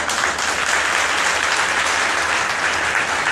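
Dense, continuous applause from a large crowd, loud and even throughout with no voices standing out.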